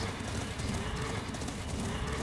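Horse hooves clip-clop in a quick, steady rhythm close by, the even beat continuing throughout with a faint whinny-like edge and no talk over it.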